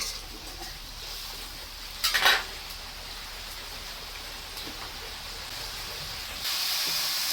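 Spice paste hitting hot oil with a bay leaf in a pan for a marine fish curry, giving a steady, close frying hiss with a brief louder sizzle burst early and a stronger hiss toward the end.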